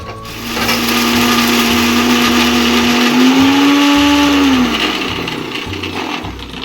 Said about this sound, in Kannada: ಹಾಕ್ಕೊಂಡು ಸ್ವಲ್ಪ ರುಬ್ಕೊಳ್ಳೋಣ